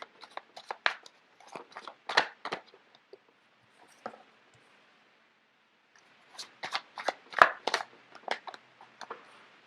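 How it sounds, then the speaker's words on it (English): Tarot cards are shuffled by hand in two clusters of quick, crisp riffling and slapping, with a quiet pause between the bursts and no talking. "So let me just get the cards out first of all."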